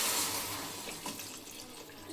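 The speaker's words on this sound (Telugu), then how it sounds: "తర్వాత తగినంత వాటర్ యాడ్ చేసుకోవాలి ఫ్రెండ్స్." Water pours into a pan of eggplant curry, a short rushing splash that is loud at first and fades slightly over about two seconds.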